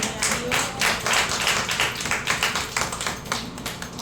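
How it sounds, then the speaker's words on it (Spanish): A church congregation applauds during a sermon, steady rhythmic clapping from many hands at moderate volume with a few louder bursts, under a background of room noise. "Démosle un aplauso al Señor"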